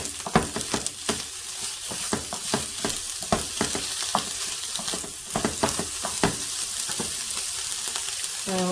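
Egg rice frying in a pan for a salt and pepper chicken dish, a steady close sizzle broken by frequent sharp scrapes and clacks of stirring, with no talking.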